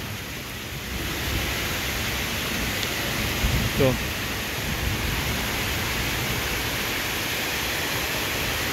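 Heavy daytime rain driven by strong wind makes a dense, steady broadband roar throughout, with a brief louder gust or thud near the middle and a short voice heard once.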